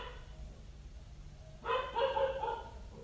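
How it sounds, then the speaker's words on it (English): A household dog barks a few times indoors from a short distance, a burst of moderately loud barks after a quiet stretch with low background hum. "That's our dog, Bodhi."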